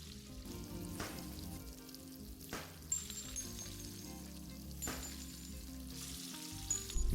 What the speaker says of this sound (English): The officer puts many more bullets on the pan than anyone else did before